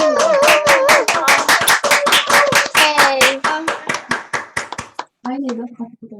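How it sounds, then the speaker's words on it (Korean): Close, crisp hand claps in a quick, regular rhythm during an online student academic presentation, with a loud voice calling out over them, slowing and thinning before stopping near the end. "힘찬 박수 함성 함께 부탁드리겠습니다"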